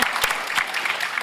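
Audience applause at a panel event, a dense burst of clapping from a crowd filling the short moment, loud and steady with no talk over it.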